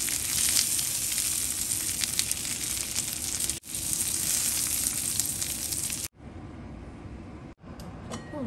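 Beetroot slices fry in a pan with a loud, steady sizzle that breaks off briefly three times, likely as the pan is moved or the slices are turned.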